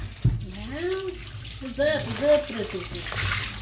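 Water runs from a tap during washing in a home kitchen, a steady soft hiss under voices talking close by.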